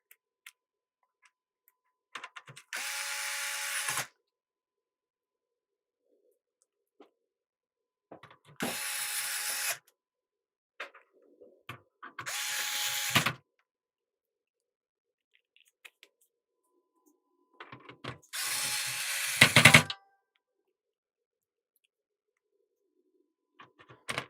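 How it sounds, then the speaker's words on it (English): Screws being driven back into a Commodore Plus 4 home computer case, heard as four separate bursts of ratcheting clicks, each lasting about a second, spaced by quiet pauses and faint handling noises. "let's get these screws back in here, because either way this board doesn't need to come out"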